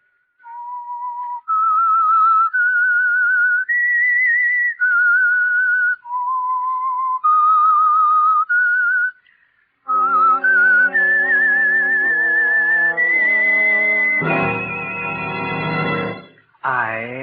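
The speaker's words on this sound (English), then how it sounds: "That whistle is your signal for the Signal Oil Program" A whistled signal tune opening The Whistler radio program, a clear melody of sustained notes rising and falling in phrases, then joined by a louder orchestral passage toward the end.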